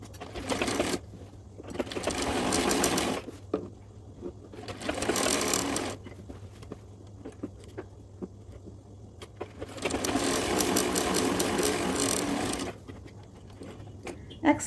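A sewing machine runs in steady buzzing stretches as it stitches the side seam of a salwar, with three long runs separated by quiet pauses and no voices.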